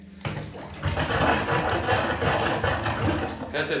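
Plunger pumping a clogged bathroom drain without a seal, giving a continuous loud gurgling, sloshing water churn that starts abruptly and runs steadily up close, with a voice faintly under it.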